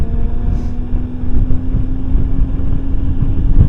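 A vehicle with loud exhaust pipes gives off a steady, deep roar that fills the scene, mixed with buffeting wind noise and no talking.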